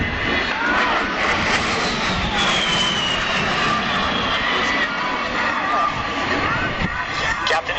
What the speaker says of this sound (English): now positioning the A-10 for a pass down the show line, while he will perform a double aileron roll at show center.